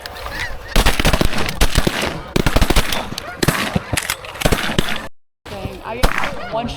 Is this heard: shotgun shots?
yes